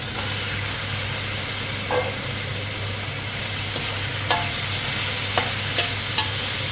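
Straw mushrooms stir-fried in a hot pan for a spicy basil stir-fry with squid: a steady sizzling hiss throughout, with a few soft clicks of stirring. No voices.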